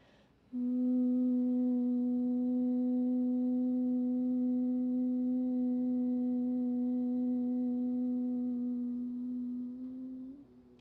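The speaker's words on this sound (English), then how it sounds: "with the lips closed, make this gentle humming sound." A steady closed-lip hum held on one even pitch during a yoga class, starting abruptly and sustained for about nine seconds before fading, alone with no talk.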